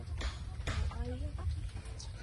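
Chickens on a rural farm property in Mambusao, Capiz, on Panay Island cluck in a few short, close bursts, with a voice in the background.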